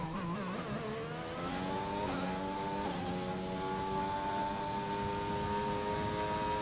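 F1 car engine in F1 2021 racing game, revving loud and continuous with a rising whine through the gears, heard alone without talk.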